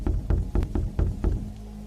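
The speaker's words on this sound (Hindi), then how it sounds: "जाकर दरवाजा खटखटाया" Someone knocks on a friend's front door late at night: about six steady, evenly spaced thumps, deep and close. A faint low hum remains after the knocking stops.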